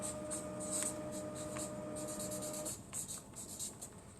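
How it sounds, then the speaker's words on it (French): Pen or marker writing by hand, a steady soft scratching with short repeated strokes close by, running alone with no talk and a faint hum underneath for the first part. "quand j'écris le mot"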